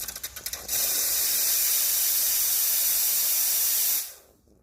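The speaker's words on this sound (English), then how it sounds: "so you can see the steam power is actually very powerful" Steam wand of a Quick Mill Rubino heat-exchanger E61 espresso machine lets out a loud, steady, forceful hiss for about three seconds, then cuts off quickly, with a few short sputters before it opens up.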